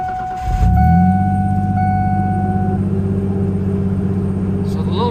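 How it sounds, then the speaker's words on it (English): A 1996 Ford Ranger truck cranks and starts, then settles into a steady, close, loud idle. "the little truck starts right up"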